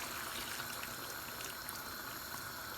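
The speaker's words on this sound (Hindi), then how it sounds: "अब हमने गोश्त को गलाना है, तो गलाने के लिए हमने पानी शामिल करना है। अब यहाँ पर मैंने गर्म पानी ले लिया है 1 कप।" A cup of hot water pours steadily into a pot of cooking meat for Sindhi gosht, a close, even watery rush and sizzle lasting a few seconds without talk.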